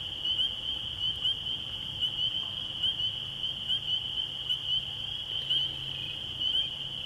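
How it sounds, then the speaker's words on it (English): A dense chorus of high, piping peeps from spring peeper frogs rings on continuously, with a steady shrill tone beneath the repeated calls, moderately distant. "you can surely hear some spring peepers as well"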